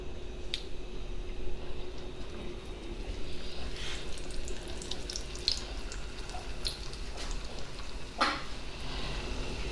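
Sopapilla dough frying in very hot olive oil in an iron skillet, a steady soft sizzle and hiss with occasional faint pops and crackles, fairly quiet and continuous, no talking.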